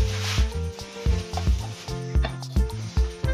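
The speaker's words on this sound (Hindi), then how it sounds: "तो ये देखें इसमें मैं अब ऐड कर देती हूँ शीरा" Sugar syrup is added to a gond panjiri ladoo mixture in a pan, giving a steady, close sizzle broken by rhythmic bursts of stirring and scraping, with no talking.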